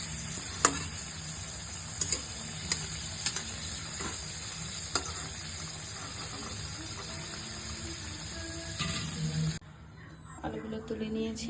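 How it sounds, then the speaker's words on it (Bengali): Potatoes being fried in oil for chicken kasha, a steady low sizzle with occasional sharp stirring clicks, cut off briefly before quieter scraping resumes. "এই যে প্রথমে আলুটা কষিয়ে নেব।"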